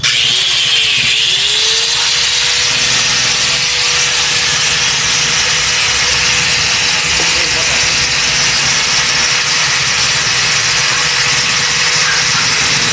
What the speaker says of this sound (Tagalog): nagamitan na lang ng grinder kasi masyadong matigas